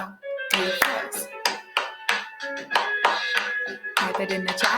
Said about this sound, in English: when he starts to clap it rather than rapping it